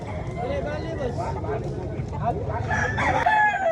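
Rooster crowing at a gamefowl expo in Consolacion, Cebu, one drawn-out crow rising near the end over a busy background of people talking and other birds.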